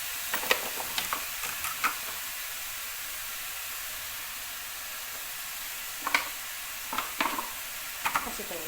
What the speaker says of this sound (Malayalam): ഇനി അതൊരു കുറച്ച് നേരം ഒന്ന് ഇങ്ങനെ എല്ലാം കൂടെ കൂട്ടിയൊന്ന് തട്ടിപ്പൊട്ടി വയ്ക്കാം